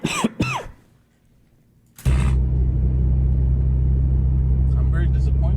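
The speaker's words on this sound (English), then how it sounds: "I don't think there's anything wrong with clearing your throat." A man clears his throat twice in quick succession, loud and close, followed by a pause and then a steady low rumble like a car engine running underneath.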